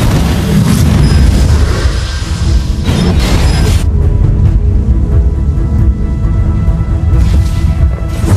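A turret explodes in the mobile game League of Legends: Wild Rift, with loud booming blasts layered over dense game music and effects that fill the whole clip.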